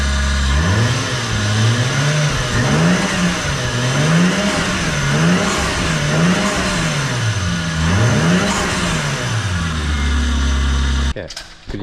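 Nissan S13 with a swapped 2JZ engine and an Aristo intercooler, revving repeatedly under extra turbo boost; the engine pitch climbs and falls in steady waves, loud and close, before cutting off abruptly at the end.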